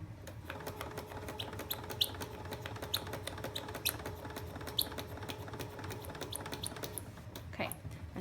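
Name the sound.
sewing machine stitching a pillow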